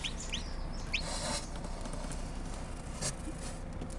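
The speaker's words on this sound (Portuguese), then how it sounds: "Esse é o primeiro pintinho da minha chocadeira." A newly hatched chick from a home egg incubator gives a few faint, high, sweeping peeps near the start, over a constant background hum.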